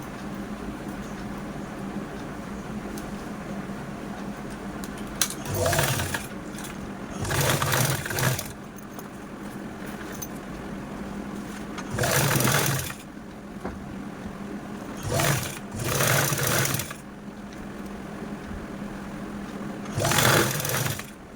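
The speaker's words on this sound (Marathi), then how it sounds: "ही पण झिप आपण लगेचच स्टिच करून घेऊया" Sewing machine stitching a zip onto a fabric bag, running in repeated loud bursts of one to two seconds with short pauses between them, heard alone without talk.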